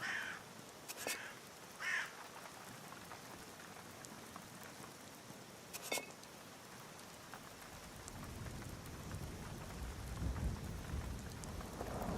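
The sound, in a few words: rain and thunder in a video game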